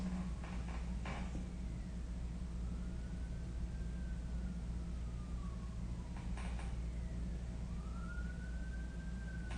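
An emergency vehicle siren wails outdoors at a moderate distance, its rising and falling tones sweeping several times over steady traffic rumble, with a couple of brief clatters near the start and middle and no talking.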